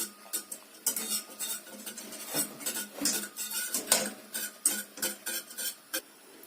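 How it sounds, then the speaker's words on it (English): A whisk rattles briskly against a metal pot while hot chocolate is stirred, a steady run of close, bright clinks and scrapes with no talking. "This makes our hot chocolate thicker. Let's whisk again."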